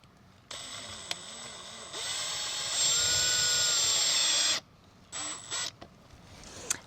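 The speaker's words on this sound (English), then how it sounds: "You just want to screw until you touch the surface." A power driver runs self-tapping hexagon head sheet metal screws through mesh into a vent, a loud continuous whine that rises in pitch and load, then stops, followed by a few short bursts.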